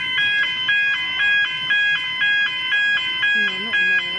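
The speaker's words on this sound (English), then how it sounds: "We're just testing the crossing gates again at Glen Huntly again." A railway level crossing gate alarm at Glen Huntly on the Frankston line rings in a steady, loud, evenly pulsing two-tone pattern close by, with a brief voice near the end.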